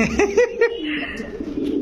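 Pigeons cooing at a pigeon market, several close, throaty repeated coos in a short rhythmic series, with murmuring voices and background chatter around them.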